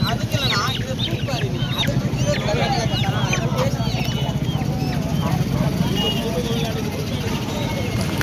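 A busy poultry market selling chickens and pigeons, with constant crowd chatter, birds honking and clucking throughout, and a steady rhythmic clopping underneath.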